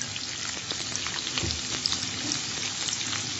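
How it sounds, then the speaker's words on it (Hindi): Onions fry in hot oil with curry leaves and spices for a mutton korma, giving a steady close sizzle with light stirring clatter throughout. "इसमें प्याज ऐड कर देंगे"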